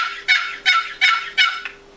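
A handheld wild turkey call imitates a turkey with four raspy, evenly spaced yelps, each sharp at onset then fading, close and clear without talk.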